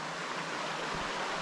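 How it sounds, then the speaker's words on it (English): Waterfall near a villa, a steady broadband rush of falling water heard up close, continuous and fairly loud with no talk over it. "The waterfall."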